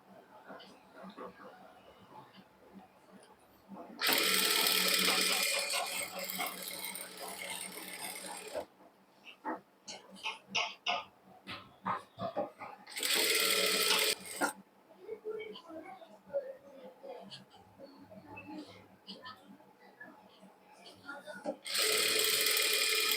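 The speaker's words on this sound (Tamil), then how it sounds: "நம்ம ஃபோல்ட் பண்ணி தைக்க தைக்க நமக்கு ஸ்ட்ரெயிட்டாக வரும்" A sewing machine stitches the folded hem of a poonam saree in three loud, steady whirring runs of several seconds each, with quieter clicks and handling in between and someone talking in the gaps.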